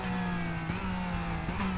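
Porsche 911 RS engine in a racing video game at Daytona International Speedway, holding a steady mid-pitched drone with whirring harmonics and slight pitch shifts, loud and continuous with no voices.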